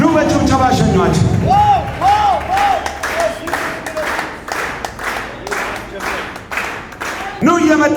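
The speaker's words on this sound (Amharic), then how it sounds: "ኑ በጭብጨባ ሸኟቸው።" A church congregation applauding to send people off after a testimony, rhythmic group clapping in regular bursts under someone speaking loudly, with some crowd voices mixed in.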